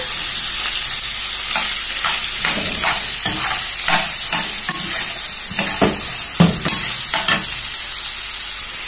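Potatoes and meat sauté with onion in a pan, giving a steady close sizzle broken by a series of scraping, clattering stirs in an uneven rhythm, with no voices.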